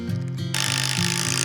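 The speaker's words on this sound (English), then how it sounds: "So got to work screwing them together." A power tool whirs steadily as it drives screws into wood, its motor pulsing in short bursts and growing brighter partway through, loud and close with no talk.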